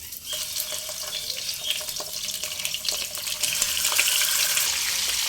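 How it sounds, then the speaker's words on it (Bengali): Fish heads hiss and sizzle in hot mustard oil in a wok, a bright crackling spatter with sharp pops that grows fuller and louder toward the end, with no voices. "তেল গরম হয়ে এলে একে একে মাছের মাথাগুলো সব দিয়ে দেব"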